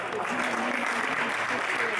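An audience at a results announcement breaks into steady, fairly quiet applause with a faint murmur of voices underneath, continuous for the whole stretch.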